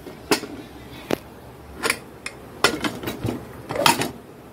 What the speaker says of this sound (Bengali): ঢাকনাটা দিয়ে দিই।